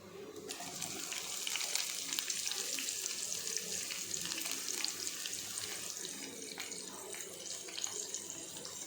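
Small shallots and sliced big onions fry with a bay leaf in oil, a close, even crackling sizzle that holds steady throughout, with no speech over it.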